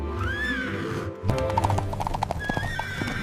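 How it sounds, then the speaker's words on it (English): Four magnificent white horses paw the ground in quick, uneven hoof clops, then one lets out a long, clear whinny; near and loud, with no talking. "The mice transformed into 4 magnificent white horses, pawing the ground eagerly."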